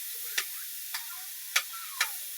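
Tomatoes sizzling in a frying pan for a sotanghon dish, with four distinct scraping strokes of stirring and crushing spaced evenly over a steady background hiss, close and moderately loud.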